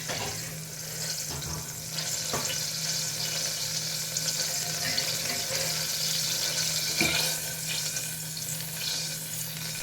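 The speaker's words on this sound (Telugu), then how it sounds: "ఆయిల్ కాగినాక తిరగమాత వేస్తున్నాను." Tempering spices sizzle steadily in hot oil in a home kitchen pan, a continuous close crackle with faint watery hiss underneath and a few brief clinks.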